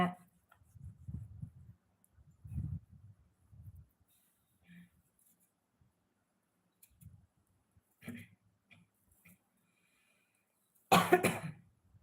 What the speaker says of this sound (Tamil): இருமல் வந்து வந்துக்கிட்டே இருக்கு